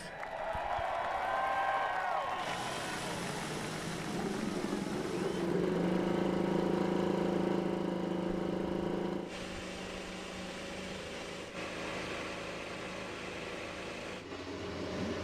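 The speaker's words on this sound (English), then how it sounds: "Drivers, start your engines." IndyCar race cars at a 2016 Texas oval race fire up and idle together, a loud, layered engine roar rising sharply after a quieter start and holding steady, with crowd and background voices mixed underneath.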